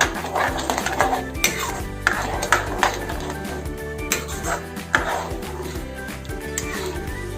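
A utensil stirs thickening tomato sauce in a pan for chicken momo, with repeated clinks and scrapes against metal in an irregular rhythm, close and fairly loud, under a faint hum.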